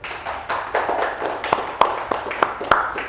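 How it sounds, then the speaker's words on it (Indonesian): Hands clap in a classroom microteaching lesson as a group applauds a student, with steady close claps, some louder strikes toward the end, and voices mixed in underneath. "tepuk tangan untuk Mbak Wali"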